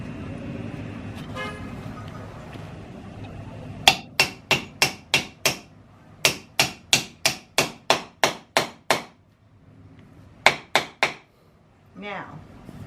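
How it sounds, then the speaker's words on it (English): A wooden piece is hammered into a tight millinery hat spinner, with a quick burst of about five sharp strikes, a steady run of around ten, then a last pair, loud and close with short pauses between the groups. "I'm going to just hammer it in here."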